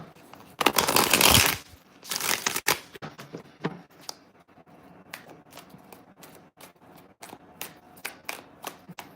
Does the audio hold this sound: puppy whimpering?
no